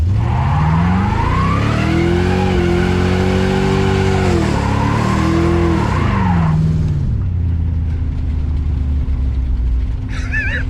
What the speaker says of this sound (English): This thing does such good burnouts.